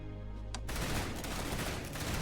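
Shotgun volleys from infantry in the real-time strategy game Starship Troopers Terran Command, a brief sharp report followed by a dense, loud burst of overlapping gunfire that fills the rest of the moment.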